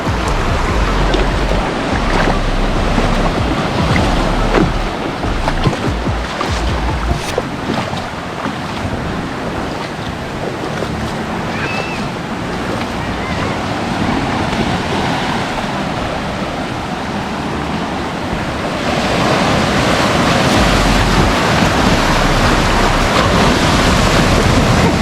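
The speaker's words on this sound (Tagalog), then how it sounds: "Natakot ako, ang laki ng alon." Big ocean waves roll and crash against a rock formation at Bolinao, Pangasinan, a continuous loud surging wash with heavy wind buffeting the microphone and a swell building near the end.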